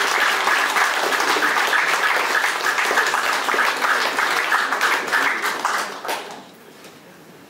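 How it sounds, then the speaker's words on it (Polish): An audience applauds a guest archbishop, Alfons Nossol, at a museum of coins and medals: dense, sustained clapping from a crowd that holds steady for about six seconds, then fades out quickly into quiet. "wielkie oklaski naszym gościem w dzisiejszym wieczorze z arcybiskupem Alfons Nosem"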